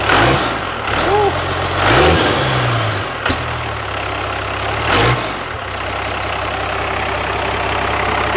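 A Cummins diesel engine swapped into a Dodge Ramcharger, running at its first startup, idles with a deep, loud rumble and revs up sharply several times, with voices cheering and talking over it.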